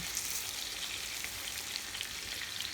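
Nham, Thai fermented pork sausage, frying in hot oil, giving a steady, fairly quiet hiss of sizzling with tiny crackling pops throughout and no voices.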